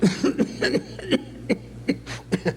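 A ventriloquist on stage at an awards show coughs in a quick series of short, close, throaty bursts at an uneven rhythm.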